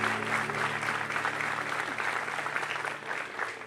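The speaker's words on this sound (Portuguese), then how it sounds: "Aplauda Ele forte." Congregation applauding steadily in a church service, dense continuous clapping at moderate level with a faint sustained organ or keyboard hum underneath.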